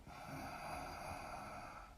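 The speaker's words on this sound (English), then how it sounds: "Breathing in with that little constriction in the throat" A slow, soft, hissing ujjayi breath drawn through a constricted throat, faint and close, with a gentle ocean-like rasp.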